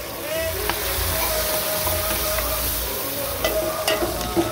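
Tomatoes frying in a pan give a steady sizzle and hiss, with a few light utensil clicks and some kitchen noise underneath.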